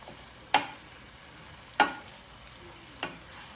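Shrimp and vegetables stirred in a Power XL cooker: three spaced, sharp scraping strokes over a faint steady sizzle and background hum, close up, with no voices.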